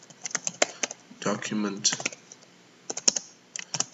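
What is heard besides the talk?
typing on a computer keyboard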